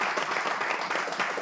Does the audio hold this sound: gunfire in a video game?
no